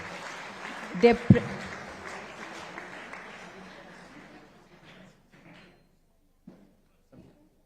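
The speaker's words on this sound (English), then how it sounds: "may we once again extend a warm round of applause to all our distinguished dignitaries present in the hall" A conference hall audience applauds dignitaries with a soft, distant patter of clapping and a couple of louder knocks early on. The applause fades over several seconds and ends with a few scattered thumps.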